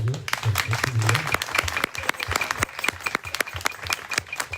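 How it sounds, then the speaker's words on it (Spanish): A church congregation claps for the horse riders at a parish feast of Saint James the Apostle, with a burst of many hands clapping at an uneven rhythm and a voice briefly audible near the start. "Vamos dándole un aplauso a los de caballo"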